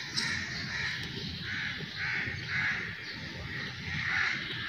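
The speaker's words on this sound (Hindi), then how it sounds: "देखिए सारे आ गए, सारे सारे काले काले ना कौवे आ गए" Several black crows caw repeatedly outdoors in light rain, harsh calls overlapping in an irregular rhythm at moderate distance, with no talking.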